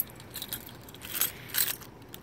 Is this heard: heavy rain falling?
no